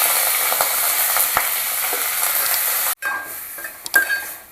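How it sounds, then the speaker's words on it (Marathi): Mutton sizzles and fries in hot oil with onions while being stirred, a steady close hiss with stirring scrapes, briefly cut off and resuming with a few louder clinks near the end. "चला आपण ह्याच्यामध्ये आता मटण घालूया."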